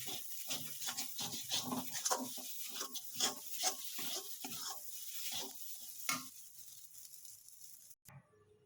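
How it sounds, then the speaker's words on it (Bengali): Peas frying in a pan, a close crackling sizzle broken by repeated stirring scrapes, ending with a clunk and quieter hiss. "আমার কড়াইশুঁটি একেবারে ভাজা ভাজা হয়ে গেছে।"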